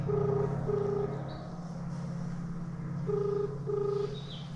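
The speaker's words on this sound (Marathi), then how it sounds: "चालू आहे रिंग" A mobile phone call rings back in paired repeating tones, two bursts at the start and two near the end, over a low rumbling background.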